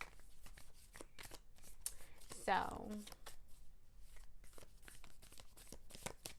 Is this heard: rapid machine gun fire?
no